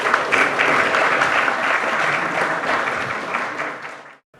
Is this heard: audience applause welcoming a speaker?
yes